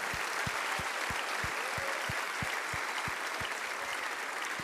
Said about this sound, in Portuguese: Aplauda forte, igreja.